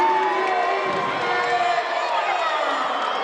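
A men's college basketball crowd at a conference game roars and cheers loudly after a fast break, a sustained wash of shouting and whoops filling the gym. A commentator's voice is faintly present underneath.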